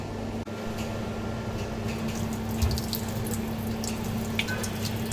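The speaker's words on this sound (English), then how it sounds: "Now we are going to wash this slide." Tap water runs steadily in a veterinary lab sink while a microscope slide is washed, a soft continuous splash with a few faint drips and clinks.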